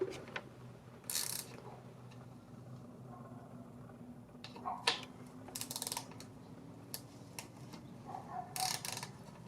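A socket wrench turns a Harley-Davidson oil drain plug, giving scattered close ratcheting clicks and metallic taps over a low background hum, in short irregular bursts.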